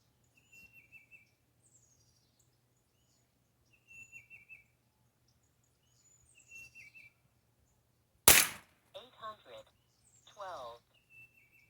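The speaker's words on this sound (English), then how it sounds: "Let's see how many shots that was." A single sharp report from a Winchester 1977XS air rifle cuts through an outdoor scene with scattered birdsong. Someone talks briefly just after the shot.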